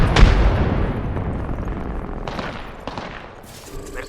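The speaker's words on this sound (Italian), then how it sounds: "Mi stanno sparando." Dense, rapid gunfire in an Apex Legends firefight, loud and close, with overlapping bursts and a few sharper impacts, no talking.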